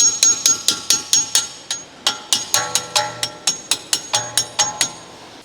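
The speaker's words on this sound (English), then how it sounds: "Use the ball-peen hammer to remove the shock absorber fixing bolt." Ball-peen hammer blows knocking a shock absorber fixing bolt out of its lug on a 2012-2015 Chevrolet Cruze, about twenty sharp metallic strikes in a steady rhythm, close and loud, with a few ringing tones between them.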